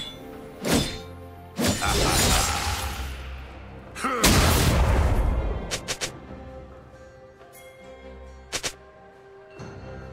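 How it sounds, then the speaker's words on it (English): In League of Legends, a turret is destroyed with several heavy thunks and crashing, shattering impacts, separated by quieter gaps, with sharp knocks near the end. "Blue team's turret has been destroyed."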